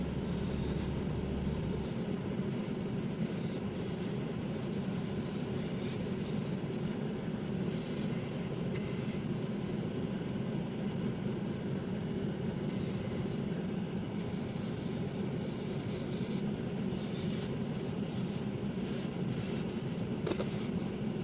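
An airbrush sprays a very light coat of thin rubber black paint onto an HO scale Kaslo Shops GP9RM model locomotive, making a steady, faint hiss with small flickers as it runs on and off.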